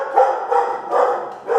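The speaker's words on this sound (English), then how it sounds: "An example is a dog losing his mind." A dog barks in three or four loud, close bursts in quick succession, each a sharp yelping bark with no voices over it.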